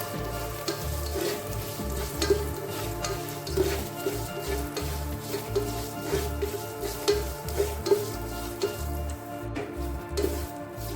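Peanuts and curry leaves roasting in a pan over low heat, giving a steady frying crackle with repeated scraping and stirring strokes throughout, fairly close and with no talk.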